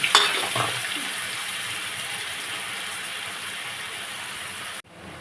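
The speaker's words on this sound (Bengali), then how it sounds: "তেল গরম হয়ে গেছে, শুকনো লঙ্কা দিলাম, জিরে দিলাম, এবারে পেঁয়াজ দিলাম" Onion hitting hot oil with dried chili and cumin, a steady close sizzle with an initial burst as it goes in, continuing evenly then cutting off abruptly near the end; no talking.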